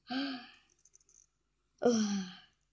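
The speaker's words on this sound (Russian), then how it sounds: "Смотрите, я зеваю." A tired woman yawns twice, each a drawn-out voiced breath of about half a second, separated by a short pause with faint clicks.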